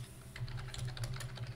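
Quick, close clicks of fingers typing on a computer keyboard, in an irregular burst of keystrokes over a short stretch, with a low hum underneath.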